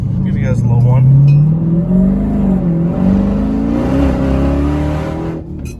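A Dodge Demon's engine revs hard up close, its deep, loud roar rising and falling through a sustained rip that nearly drowns out a voice underneath.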